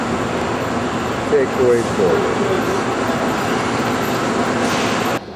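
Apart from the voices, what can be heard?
train riding along on rails in Poland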